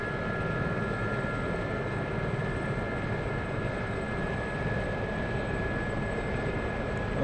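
Steady, even engine and rotor roar of an SA-342 Gazelle helicopter on takeoff in DCS World, a constant mid-distance drone with faint high whine and no talk.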